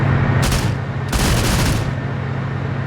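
Two bursts of rapid automatic gunfire from the video game Arma 3, a short one followed by a longer rattling volley, over a steady engine-like drone.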